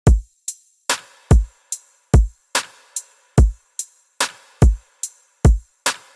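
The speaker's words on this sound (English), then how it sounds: "The drums sound like this." An electronic drum loop at 145 BPM from a bass music project, with punchy kick and snare hits alternating with lighter percussion in a steady repeating pattern, loud and close with no voices.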